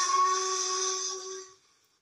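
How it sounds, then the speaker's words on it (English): A steam locomotive whistle sounds one steady, shrill, tonal blast, loud and close, held for about a second and a half before cutting off abruptly, with a short fading tail. "I've never heard that whistle here before."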